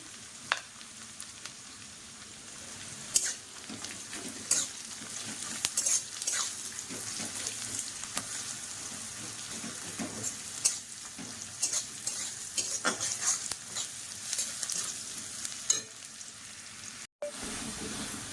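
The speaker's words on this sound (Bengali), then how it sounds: "ভালো করে লাল লাল করে ভেজে নিতে হবে" Food fries in a pan while being stirred until browned, a quiet steady sizzle punctuated by irregular clicks and scrapes of a utensil against the pan.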